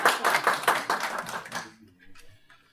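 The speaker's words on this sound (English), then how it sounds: "promise beer every time they clap their hands" A live audience claps along in bursts of rhythmic hand-clapping at a sports event business seminar, loud and close for about a second and a half, then breaking off to a few faint scattered claps.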